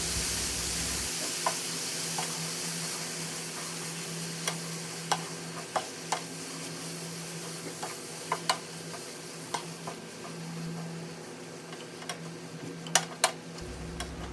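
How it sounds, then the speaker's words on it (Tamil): Grated coconut mixed with dissolved black sugar in a pan for kozhukattai, with soft, scattered taps and scrapes of a spoon against the pan over a faint, steady low sizzle. "நல்லா தேங்காய் பூவோட இந்த கருப்பு சீனியை மிக்ஸ் பண்ணி விட்டுக்கிறேன்."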